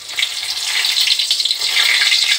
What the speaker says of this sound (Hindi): तेल गर्म हो गया तो मैं इसमें सूखा मिर्ची डाल दिया